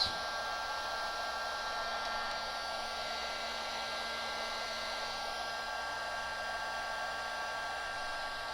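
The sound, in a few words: heat gun blowing on a tablet circuit board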